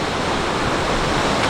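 Steady, loud rushing roar of a waterfall in Quebec, a continuous broadband wash of falling water filling the scene without pause.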